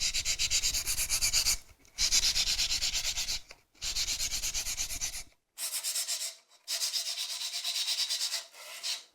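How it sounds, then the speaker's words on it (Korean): Rhythmic rasping of rolled sandpaper rubbed back and forth inside a hole in a wooden Korean instrument body, short bursts with brief pauses between strokes, close and fairly loud, with no voices. "악기장이 둥글게 만 사포를 구멍에 넣고 문지른다."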